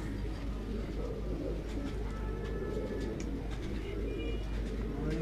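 Original-breed pigeons at a rooftop loft coo softly and repeatedly, with light chirps over a steady low background hum.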